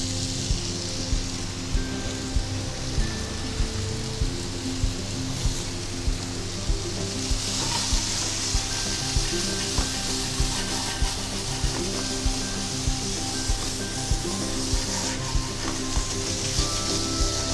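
Pork meat and girolle mushrooms frying in a hot pan, a steady loud sizzle with crackling spits throughout, alone without voices.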